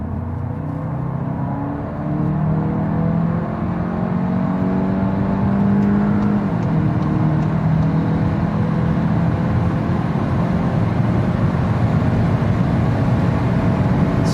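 A 2021 VW Golf 8 GTE plug-in hybrid accelerating hard in sport mode with the combustion engine running, heard from inside the cabin: a steady, loud engine drone with rising harmonic tones over constant road and wind noise, no talking.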